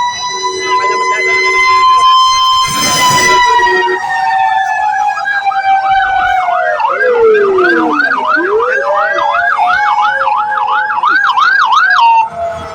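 Fire truck sirens wail loudly and close as firefighters arrive at a fire, a long rising and falling tone giving way to a fast yelping cycle, with people talking now and then.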